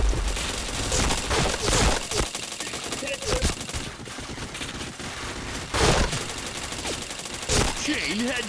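Rapid video game gunfire in bursts and single shots, loud and dense throughout, with brief pauses and a voice calling out between volleys.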